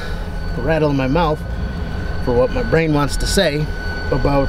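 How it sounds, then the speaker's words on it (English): Trains shunting in and out of a small nearby rail yard make a steady rolling rumble beneath continuous talking throughout. "There's a small train yard behind us and they constantly are moving trains in and out of it."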